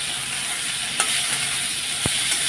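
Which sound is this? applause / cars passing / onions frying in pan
onions frying in pan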